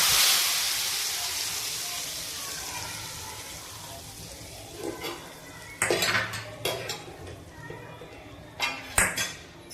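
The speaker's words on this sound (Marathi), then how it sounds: "तर आपण हा तडका मसूरच्या भाजीमध्ये टाकू" Hot tadka tempering poured into a pot of traditional Maharashtrian whole masoor curry, a loud sizzling hiss at first that fades, then clinking metal pot and utensil knocks in the second half.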